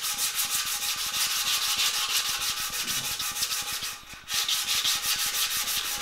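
Rapid, rhythmic hand sanding of paint on a carbon fiber frame, close and continuous, with a brief lull as the stroking pauses before resuming at the same brisk pace.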